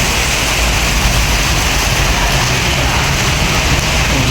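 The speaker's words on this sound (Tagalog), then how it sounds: "bumuhos na naman ang ulan na napakalakas." Heavy typhoon rain pours down in the Philippines, a loud, dense, unbroken hiss of water that fills the whole stretch without letup.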